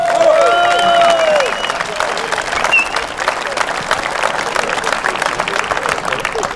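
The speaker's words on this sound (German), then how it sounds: "Der Applaus gehört uns allen" A crowd at a Cervelat Tour 2021 gathering applauds and cheers, with several loud whistles early on over continuous clapping that continues at a steady level, and voices of people talking mixed in.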